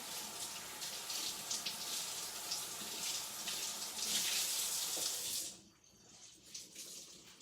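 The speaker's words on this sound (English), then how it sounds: "we're gonna take our kitchen towel and we're gonna get it wet over here at the sink" A kitchen towel is held under a running sink tap, giving a steady splashing hiss of water that stops abruptly near the end, followed by a few quieter drips and handling sounds.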